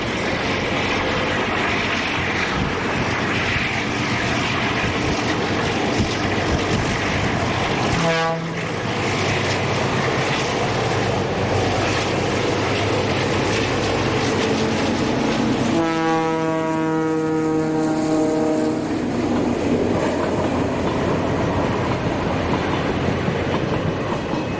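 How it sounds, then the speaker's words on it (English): A Portuguese diesel locomotive pulls away with a local passenger train at Setúbal docks, a steady loud engine roar building as it departs, with rising and falling engine tones and rail noise throughout. "another example departs with the local service from Praia Sada to Barreiro"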